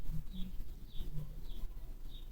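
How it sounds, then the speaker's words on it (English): Faint, high chirps from small birds in a tree outside a house door repeat at a steady pace, roughly every half second, over a low background hum outdoors. "Those birds, there's a little tree right outside our door, and those birds chirp all day long."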